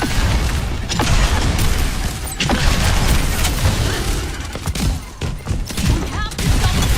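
A rocket barrage in the Overwatch video game fills the scene with a dense, loud, continuous fusillade of blasts and booms, punctuated by sharper explosive cracks.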